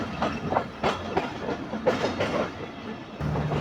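A Hazara Express locomotive standing at Khanewal railway station in Pakistan, heard as a steady rumble with irregular clanks and rolling clatter, moderately loud and close, with no talk over it.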